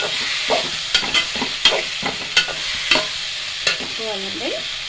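Tomatoes frying in a pan for a fish curry, stirred with a utensil: a steady broadband sizzle with repeated sharp scraping clicks from the spoon against the pan, fairly close, with faint background voices near the end.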